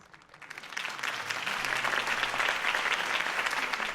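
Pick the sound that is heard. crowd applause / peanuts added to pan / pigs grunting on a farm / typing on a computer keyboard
crowd applause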